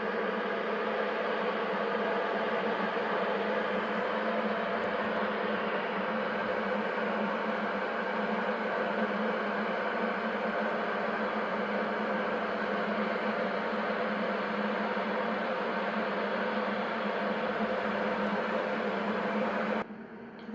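Cosori electric kettle heating water to a boil, giving a steady, even hiss and low hum that holds for about twenty seconds before cutting off abruptly at the end.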